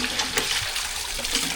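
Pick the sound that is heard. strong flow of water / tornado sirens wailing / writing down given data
strong flow of water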